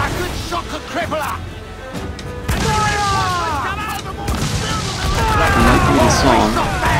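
Cannon broadside fire from pirate-era sailing ships in Assassin's Creed IV: Black Flag, with heavy booms breaking out over a constant battle din and shouting crew voices throughout.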